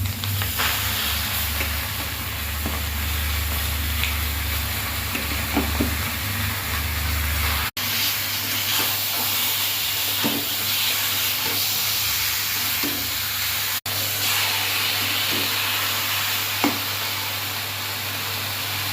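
Steady sizzling and frying as pre-boiled taro leaves go into a hot pan of oil tempered with bay leaf and dried red chilli, a continuous close hiss with occasional stirring clicks and no talking.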